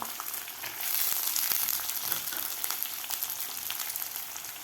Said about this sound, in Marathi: भाज्यासुद्धा आपल्याला एक ते दोन मिनिट व्यवस्थित परतून घ्यायच्या आहेत